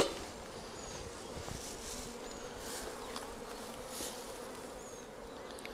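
Honey bees swarm around an open Flow hive, a dense, steady buzzing hum filling the air with individual bees zipping past close by, no voices.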